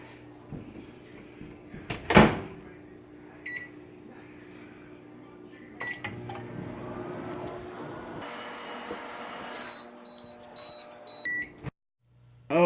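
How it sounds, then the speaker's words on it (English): A microwave hums steadily with clattering kitchen handling and a door thump, then a series of short electronic beeps sounds near the end. "looks like we are back to the microwave for 5 more seconds"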